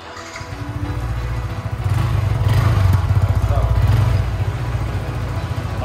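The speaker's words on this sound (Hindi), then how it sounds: "बाइक स्टार्ट कर दो भाई एक बार" A new 2022 Yamaha R15 V4 motorcycle engine runs close by, settling into a steady low idle and then swelling with a throttle rise in the middle before easing back. No one speaks over it.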